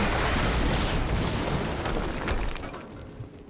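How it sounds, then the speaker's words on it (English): Explosion in Quantum Break: a single loud, close blast with broad rumbling noise that fills the first seconds, then fades and thins out toward the end, with no talk over it. "HQ, we just heard an explosion near the harvesting perimeter"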